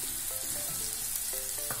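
Potatoes added to fried onions in a hot pan give a constant loud crackling sizzle with a few brief tonal scrapes of utensils, close and continuous throughout.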